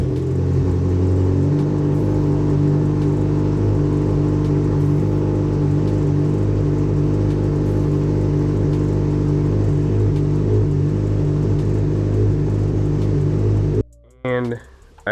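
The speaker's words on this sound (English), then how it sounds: "I think I did just a startup of the motorcycle with the baffle in." A motorcycle engine with the exhaust baffle fitted starts up and settles into a deep, steady idling rumble that runs for a long stretch before cutting off abruptly, followed by a brief voice.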